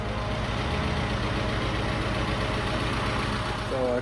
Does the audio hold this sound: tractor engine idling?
yes